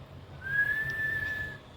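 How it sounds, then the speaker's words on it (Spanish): A patient whistles a single sustained, steady tone during a cranial nerve exam, one clear held note lasting about a second, close and alone against a quiet room. "También que silbe"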